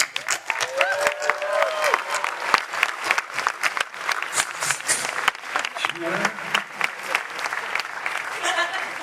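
A Comic-Con panel crowd applauds and cheers as a guest is welcomed to the stage, with loud, dense clapping sustained throughout and whoops and voices rising from the audience.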